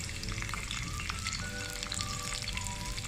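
Sliced onions and cabbage sizzling in a pan for homemade noodles, a dense, even, crackling fry that stays steady throughout, close and moderately quiet, with no voices.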